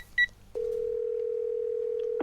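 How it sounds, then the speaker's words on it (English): A phone dial tone in a visual novel video game: after a short electronic beep, a steady, clean single-pitch tone begins and holds unbroken for well over a second. "Without thinking, I pull out my phone and dial the first name that comes to mind."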